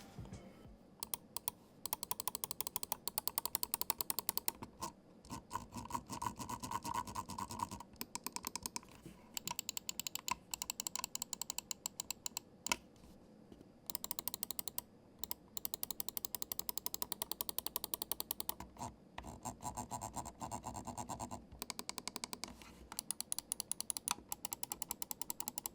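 The scroll wheel of a Pulsar X2 gaming mouse clicks and ratchets in quick bursts, turned close up in repeated runs with brief pauses and no talk.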